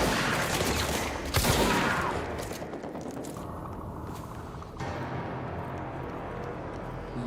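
A shotgun fires in the video game Control, a loud blast standing out amid continuous heavy combat noise with mechanical clanks and a persistent low rumble.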